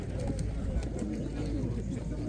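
Pigeons coo at an outdoor pigeon market in Jedlińsk, low throaty calls under the steady murmur of people and market bustle, close and fairly loud.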